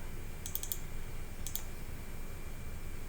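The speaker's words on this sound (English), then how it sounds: "I just type in note." A few quick keystrokes tap on a computer keyboard in two short bursts, close but light, over a quiet room hum with no talking.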